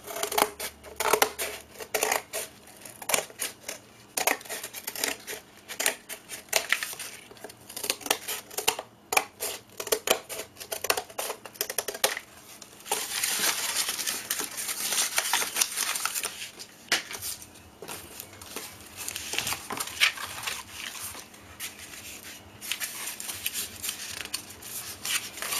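A paper page is cut off along its perforation lines for a junk journal made from a box. Close, repeated snipping and paper rustling continue with some quieter stretches and no talking.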